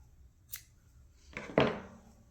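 Scissors snipping crochet yarn, a soft faint snip followed by a sharper, louder close cut about a second later, in a quiet room with no talk.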